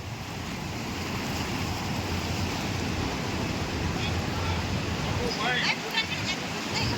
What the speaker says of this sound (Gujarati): અત્યારે તમે જોઈ શકો છો કે ગોદાવરી નદીનું કેટલું બધું પાણી આવી રહ્યું છે.